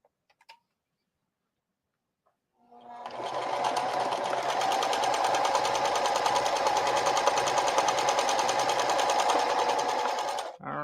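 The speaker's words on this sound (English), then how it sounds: "I'm gonna sew right sides together, and I'm gonna sew along the short side." A sewing machine runs in one long, steady burst, close and loud, stitching a tote bag handle with right sides together along the short edge, after a brief quiet start.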